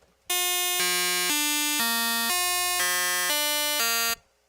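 A Triple Cheese synth plugin tuned to 22-EDO with three comb-filter oscillators plays eight sustained buzzy, harmonically rich notes in a row at even volume, with some sour, out-of-tune intervals between them, standing alone without any voices.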